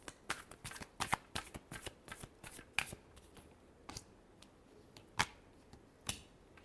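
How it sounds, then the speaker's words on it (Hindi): Tarot cards shuffled by hand in a quiet room, a run of crisp riffling snaps and slaps in irregular bursts, close and fairly soft, with no talking. "चलिए देखते हैं लास्ट शफल।"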